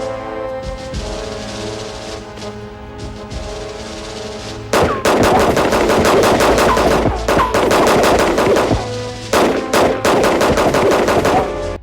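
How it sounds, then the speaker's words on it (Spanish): Army gunfire in the 1993 film Carnosaur: a steady tonal backdrop gives way to loud, rapid machine-gun bursts, firing in long stuttering volleys with short gaps between them. "¿En serio eran necesarios tantos disparos?"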